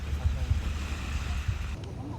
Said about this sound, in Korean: 잔잔한 파도 소리만 남은 이곳에서